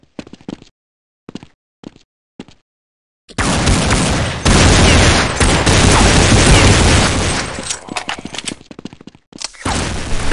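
A grenade detonates in a Counter-Strike match from 2003, a loud, close blast that roars and rumbles for several seconds, with sharp gunfire pops just before and after.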